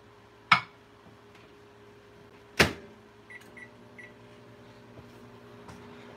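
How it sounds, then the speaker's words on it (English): A microwave oven heats whipping cream with a low steady hum, two sharp clunks like a door or button, then a few soft beeps, quiet and close. "I'm going to heat this up in the microwave just a little bit."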